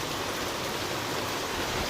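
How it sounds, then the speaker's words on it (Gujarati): Heavy monsoon rain pours down in a dense, unbroken hiss of water striking surfaces. The downpour is loud and steady throughout, with no speech over it. "અત્યારે તો ધમાધમ વરસાદ પડી રહ્યો છે"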